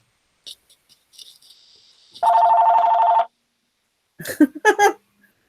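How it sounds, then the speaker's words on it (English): A telephone rings in one sustained electronic burst of about a second, loud and close, preceded by faint tones and followed by short rattly bursts. "This phone rings."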